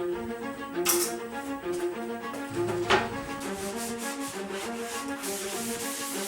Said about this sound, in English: I had to sand down the board.